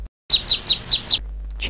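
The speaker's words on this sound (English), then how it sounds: "Albatross." An albatross gives five short, sharp calls in an even rhythm, loud and close, followed by a brief quiet stretch.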